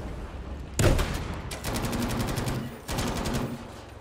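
Automatic gunfire from Battlefield V rattles in loud, close bursts, a sharp opening volley followed by two sustained rapid streams of shots with a short gap between them.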